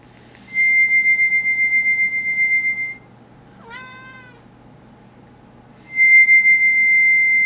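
Harmonica held on a single sustained reedy chord with a pulsing tremolo, played twice with a pause between, while a cat lets out one rising, wavering meow in the gap; close and loud over a low steady hum.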